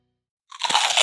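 A loud, close crunch as a bite is taken into crispy air-fried Korean fried chicken coated in potato starch, following a moment of silence.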